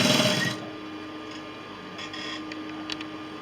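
Sewing machine stitching down a placket on a garment, a steady faint mechanical whir after a brief louder burst at the start, with no voices.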